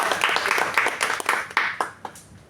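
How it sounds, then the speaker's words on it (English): A round of applause at a formal event greets a guest called to the dais, with many hands clapping for a few seconds before gradually thinning out and fading. "The big round of applause for Aniket"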